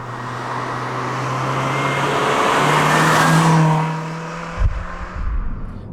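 A Toyota Yaris GRMN is driven hard through corners, its engine note loud and steady, rising and falling with the revs before a sharp shift and a gruff low burble near the end; no one speaks.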